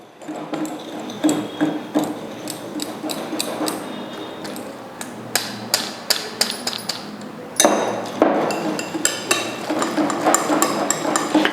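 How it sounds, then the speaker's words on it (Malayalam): A hand whisk beats ghee and powdered sugar in a bowl for nankhatai dough, producing a rapid run of close, sharp metallic taps and clinks against the bowl's side, continuing without pause. "ഞാൻ ഇത് ഒരു ഹാൻഡ് വിസ്ക് വെച്ചിട്ട് ഇതേപോലെ ചെയ്തെടുക്കുന്നുണ്ട്"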